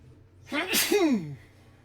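A single sharp human sneeze, close and loud, with a quick intake of breath before the burst and quiet afterward.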